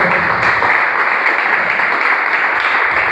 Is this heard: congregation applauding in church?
yes